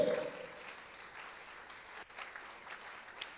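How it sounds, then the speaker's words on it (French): A church congregation claps their hands during a healing service, soft and somewhat distant, a dense patter of many hands that fades slightly after a louder start. "Clap your hand, they are coming"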